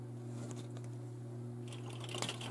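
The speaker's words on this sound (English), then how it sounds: "if you hear a humming in the background, it's because I'm saving some video" A computer hums faintly while saving video, a low steady electrical drone with a few light ticks and clicks over it.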